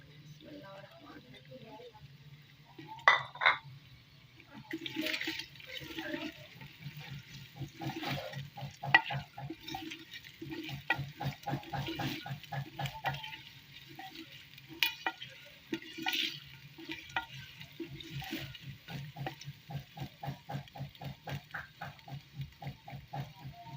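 Garlic and ginger paste frying in a goat head curry gives a soft, steady sizzle with rhythmic scraping and stirring of a spoon in the pot, while a voice talks over it.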